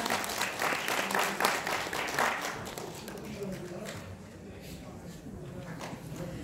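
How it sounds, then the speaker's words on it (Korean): Applause from an audience at a special lecture and annual general meeting, a dense clatter that fades and thins partway through, with voices underneath. "다시 한번 뜨거운 박수 부탁드립니다."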